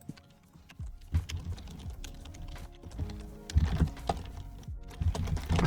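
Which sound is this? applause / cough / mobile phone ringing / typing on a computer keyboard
typing on a computer keyboard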